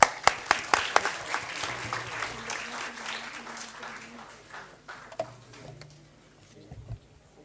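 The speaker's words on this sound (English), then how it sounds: "A big round of applause." Scattered audience clapping at a degree certificate distribution ceremony, starting with sharp individual claps and thinning out to sparse, fading pats, with faint speech in the background.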